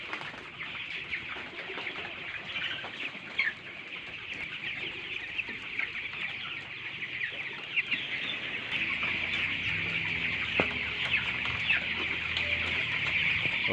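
Broiler chickens fill a coop with a faint, continuous chorus of clucks and chirps, with occasional wing flaps and shuffling, heard from a short distance with no talking.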